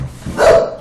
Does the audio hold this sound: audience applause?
no